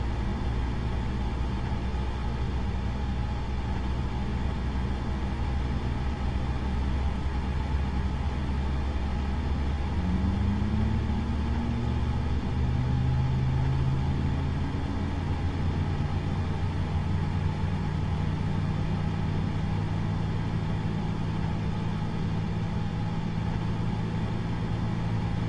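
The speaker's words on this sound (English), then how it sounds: "what is that that hydraulics noise when the second engine comes into play?" Hydraulic pump whine of an Airbus A320neo in Microsoft Flight Simulator 2020 as the second engine starts, a rising tone emerging midway over steady engine and cockpit hum, continuous and moderately loud, with no talk.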